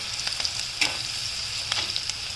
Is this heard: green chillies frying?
yes